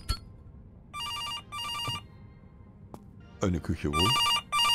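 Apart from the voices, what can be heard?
telephone ringing in the video game September 7th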